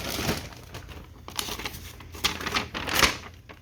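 Paper crinkles and rustles during the unboxing of a Daytona Sensors Smart Spark LS ignition kit, in quick irregular bursts of crisp crackling, close by and with nobody talking.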